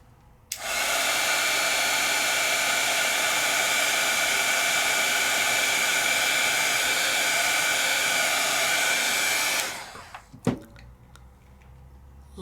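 Close, loud steady whir of a craft heat tool blowing on Jacquard ink over a handmade background, running continuously for about nine seconds before switching off, followed by a brief clatter as it is set down.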